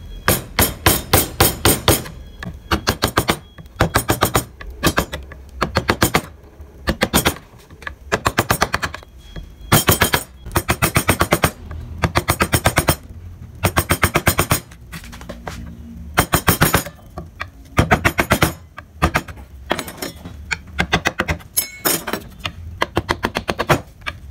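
Mallet blows on a gouge chisel carving a convex barong motif in wood, a rapid, loud, sharp knocking in dense bursts with short pauses between runs.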